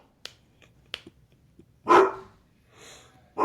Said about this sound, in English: so that's why they're barking